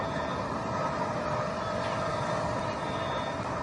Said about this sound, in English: Engine back up to full throttle.